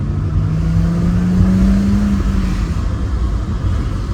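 A 1988 BMW 320i E30 pulls away in first gear, its engine a steady, loud low rumble heard from inside the car with a rising tone as it gathers revs.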